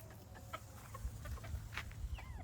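Cochin chickens near their little house on an urban farm give soft, scattered clucks and short calls, faint and fairly close, over a low steady background hum.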